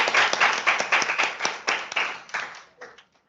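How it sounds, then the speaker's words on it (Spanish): Clapping from students in a sociology class, a close, brisk burst of hand claps that thins out and stops after about three seconds. "Excelente, fuerte aplauso."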